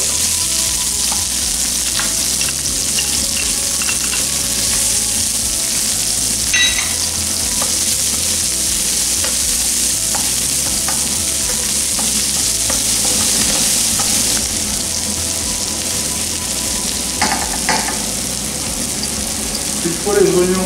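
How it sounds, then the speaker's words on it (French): Onions, with some shallot, sizzle in sunflower oil in a hot frying pan: a constant, close crackling hiss runs throughout, with occasional stirring clinks and brief water or utensil sounds, and no speech. "une poêle à chauffer avec de l'huile de tournesol. Elle y ajoute ses oignons"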